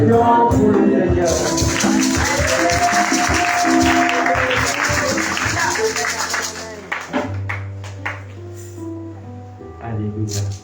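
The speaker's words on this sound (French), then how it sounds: "une acclamation pour le Seigneur" A church congregation applauding and cheering for the Lord during a Tuesday worship service, dense clapping mixed with voices and shouts for several seconds before fading into quieter murmurs and speech.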